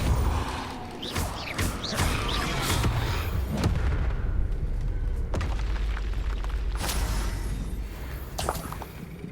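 A Bombarda spell detonating in the Hogwarts Legacy video game during combat, with repeated booming blasts and mechanical clatter. Several loud, close impacts land in sequence over a dense rumble of game effects.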